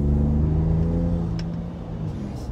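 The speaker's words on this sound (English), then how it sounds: "You can hear the exhaust in this one too, when you step on it a little bit." A 2019 Ford Raptor pickup's exhaust rumbles as the truck accelerates on the road, a low steady engine drone heard from inside, easing slightly midway.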